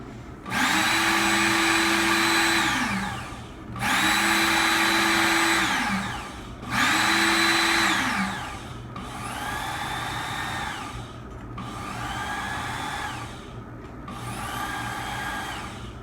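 A Ken Onion Work Sharp electric knife sharpener runs in six separate bursts, each a steady motor whine of about two seconds with short pauses between. It is loud and close, and the pitch sits lower in the later runs.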